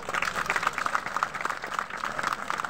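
An audience at a Gondwana Republic Party speech gathering claps in a dense, irregular patter of moderate loudness that carries on throughout.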